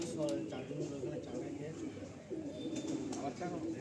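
A male Kaldam pigeon in a loft stand coos in soft, repeated low calls, with someone talking over it throughout.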